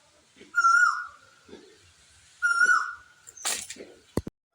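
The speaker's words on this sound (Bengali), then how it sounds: "সকালবেলা ঘুম থেকে উঠে এরকম কোকিলের ডাক আহা" A koel (cuckoo) calls twice on a quiet morning, clear rising whistled notes a couple of seconds apart, followed by a few soft rustles and a sharp knock.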